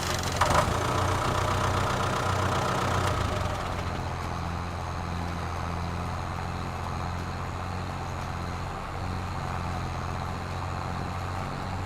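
A farm tractor engine idles steadily in Farming Simulator 22, a low continuous rumble with a slightly louder stretch at first, then settling into an even hum, with no voices.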